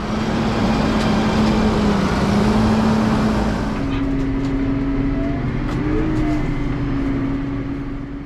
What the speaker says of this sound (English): I've never drove a tractor right through the front gates.